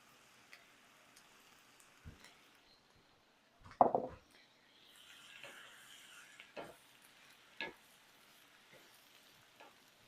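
Breadcrumbs are stirred through a dish, giving quiet, scattered scrapes and soft rustling with one sharper clatter partway through and near-silence in between.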